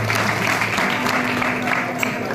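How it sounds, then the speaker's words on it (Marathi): An audience at a village temple entertainment performance applauds, steady clapping with a faint voice and a low hum beneath it. "एकनाथ शिंदेसाठी एका टाळ्या वाजवल्या."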